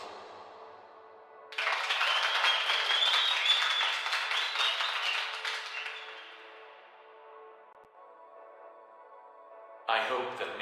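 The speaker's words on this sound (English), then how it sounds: "I shall play an audio clip of applause for your honesty." Crowd applause plays as a sound effect in a video game survey, a sustained wash of clapping lasting several seconds that fades out, followed by a short electronic tone.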